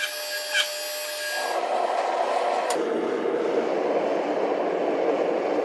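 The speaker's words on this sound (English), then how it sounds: "This monster hydraulic press makes it easier for the welds to take" A large hydraulic press squeezes glowing Damascus steel made from forklift chain, a sustained rough grinding hum that rises after a brief clatter and holds steady to the end.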